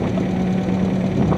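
Engine of a 2001 Kia Sportage idling on a cold start after repair, a loud, close, steady rumble with a constant low hum and faint ticking texture, no voices over it.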